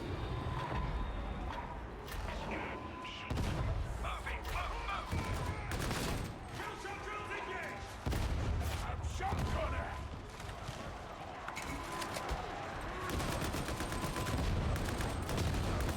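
A braced auto gun hip-fired in a video game, bursts of rapid automatic fire running through most of the stretch, loud and close, with brief gaps between volleys and game sounds underneath.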